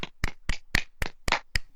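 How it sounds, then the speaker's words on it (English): Seven sharp, separate hand claps at a steady, slightly uneven pace, loud and close, from boxing podcast hosts applauding together in the studio, with no talk between them. "So if we put our mics down and give it a little clap."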